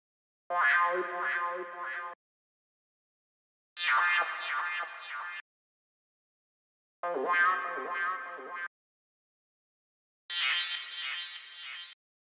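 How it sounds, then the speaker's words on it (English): Four separate melodic synthesizer phrases, each about one and a half seconds long, with short silences between them, bright and tonal. "The whole idea starts off with this melodic synth over here."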